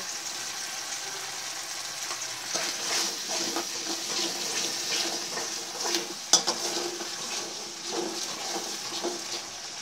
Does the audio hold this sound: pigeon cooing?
no